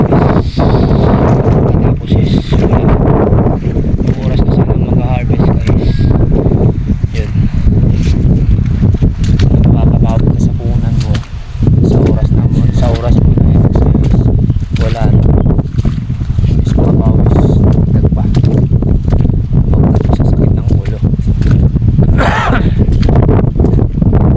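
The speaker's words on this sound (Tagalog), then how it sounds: "umuulan tapos malakas yung hangin" Strong wind roars and buffets the microphone without pause on a farm, with heavy rain mixed into the constant loud rushing noise.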